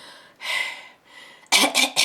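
A person coughs several times close up: a couple of breathy rasps, then three sharp, rapid coughs in quick succession.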